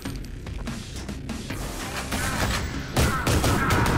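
A weapon in the video game Ion Fury fires rapidly in dense, loud bursts that build and grow heavier toward the end, sharp cracks over a continuous rumble with no talking.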